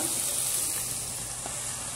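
Food sizzles steadily in a hot pan while being sautéed for Palembang fish-ball tekwan soup, a continuous crackling hiss at moderate loudness with no talking.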